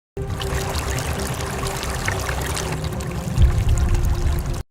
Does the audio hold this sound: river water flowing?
yes